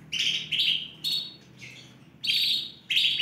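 Several Sunkist Yorkshire Fife canaries (ring-20 size, healthy) singing in repeated bright bursts of chirping and trilling, close and fairly loud, with short pauses between phrases.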